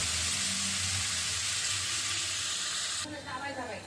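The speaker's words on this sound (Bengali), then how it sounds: "আলুগুলো ছেড়ে দিয়েছি আর পেঁয়াজ ছেড়ে দিয়েছি, এটা ভালো করে ভাজা হয়ে যায়।" Potato and onion pieces fry in hot oil in a pan, giving a steady, close hiss that shifts to a busier crackle near the end.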